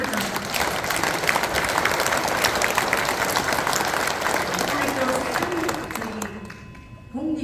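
Loud, sustained audience applause fills the hall at a Buddhist dharma assembly marking a Busan teachers' Buddhist association's 25th anniversary, dense clapping with crowd murmur throughout and tapering briefly near the end before resuming.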